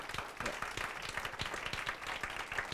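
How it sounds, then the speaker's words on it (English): Lively audience clapping at a business talk, a dense, continuous round of applause with distinct individual claps, fairly close and loud throughout. "Can we give Steve another round of applause?"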